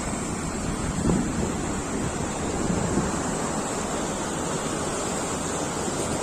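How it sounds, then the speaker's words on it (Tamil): Water rushes over a check dam in a river, a loud, continuous roaring wash with wind buffeting the microphone and no one speaking. "நீங்களே அந்த தண்ணி வர சவுண்டை கொஞ்சம் நேரம் கேளுங்களேன்"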